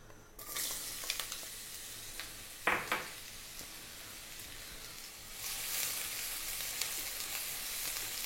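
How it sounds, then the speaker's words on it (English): Garlic and ginger frying in hot sesame oil give a continuous broadband sizzle with one brief scrape partway through, then the hiss swells noticeably louder and stays strong to the end. "we're going to drop in the garlic and the ginger"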